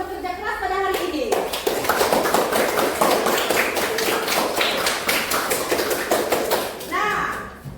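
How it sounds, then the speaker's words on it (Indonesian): A classroom full of people claps together in a brisk, sustained burst of applause, with a voice speaking Indonesian briefly before and after. "beri tepuk tangan kepada kita semua karena kita sudah bekerja keras pada hari ini."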